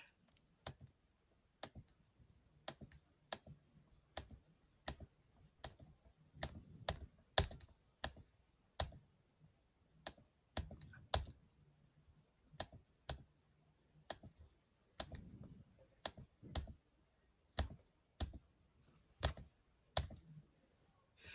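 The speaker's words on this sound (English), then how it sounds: "I'm clicking on the button and it's not working." Sharp, irregular mouse button clicks on a computer repeat steadily and close up for about twenty seconds, with no voices.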